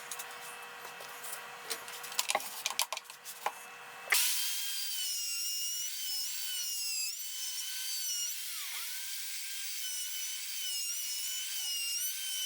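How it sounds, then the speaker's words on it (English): A Black & Decker router cuts wood for a vertical beehive, first with several scattered short bursts, then settling into a steady, sustained high whine that runs to the end. "That's not a bad router so far."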